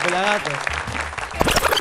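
Audience applause for the band, a dense patter of clapping and cheers that swells near the end, with voices speaking and shouting over it.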